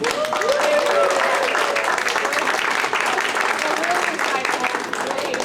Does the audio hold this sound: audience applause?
yes